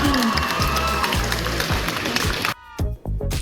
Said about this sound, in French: On applaudit. Plus fort, parce que là il n'y a pas beaucoup d'applaudissements.